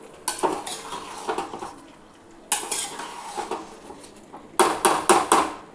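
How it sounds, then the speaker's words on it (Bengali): A metal spoon scrapes and clinks against a pan as potatoes are stirred with spices, in three bursts of rapid close knocks separated by short pauses, with a soft sizzle underneath. "এবারে ভালো করে আলুগুলোকে মশলার সাথে সুন্দর করে মিশিয়ে দিই।"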